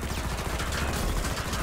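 Rapid bursts of enemy gunfire in Killing Floor 2, a dense fusillade of overlapping shots lasting under two seconds, steady and moderately loud.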